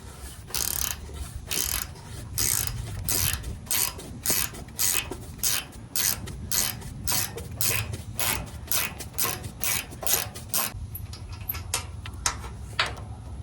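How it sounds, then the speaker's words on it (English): A ratcheting wrench clicks in quick repeated bursts while loosening bolts on a trailer's wood deck, close and crisp, with brief pauses between runs of rapid ratchet clicks. "I got the ratcheting wrench, so should be a little bit faster."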